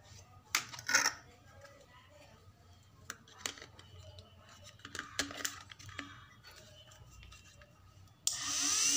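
A homemade angle grinder sits amid close metallic clinks and handling clatter, then switches on abruptly near the end with a loud, bright whining roar.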